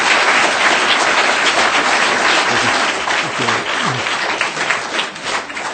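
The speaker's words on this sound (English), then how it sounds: "You guys aren't supposed to clap now." Audience applause fills a city council meeting in Moscow, dense and steady clapping throughout before thinning slightly near the end.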